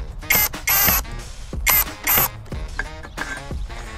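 Drill-powered boat motor being fitted onto its mounting clamp, giving a handful of sharp metallic clicks and ratcheting clanks in separate bursts, close and fairly loud, with no talk.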